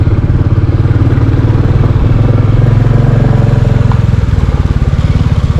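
A motorcycle climbs a steep off-road mountain trail on a ride from Landour to Bhadraj. The engine is close and loud, chugging in a steady, labouring rhythm throughout, with no voices.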